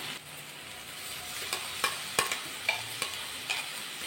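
Onion and brinjal sizzling in a pan with mustard and radhuni spice paste, a steady frying hiss broken by repeated sharp clicks of a spatula stirring and scraping against the pan, with no voices.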